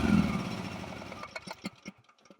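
A small farm buggy engine cranks over and catches, its rough, rapid mechanical chatter steady at first and then breaking into uneven sputtering pulses as it keeps running close by.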